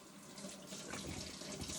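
Tap water runs steadily into a kitchen sink as hands are washed before cooking a donair dinner, a continuous close splashing flow with no talk.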